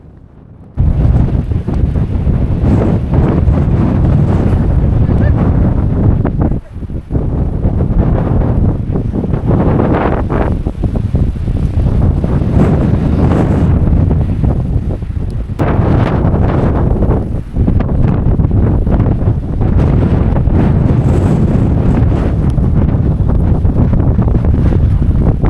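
Strong, gusty wind buffets the microphone near the summit of Meesapulimala peak on a cold trek in Kerala, a loud continuous roar with brief dips, no talking.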